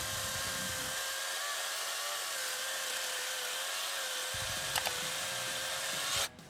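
A cordless chainsaw cuts the back cut while felling a tree, giving a steady, loud high-pitched whine that holds nearly constant throughout before cutting off abruptly near the end.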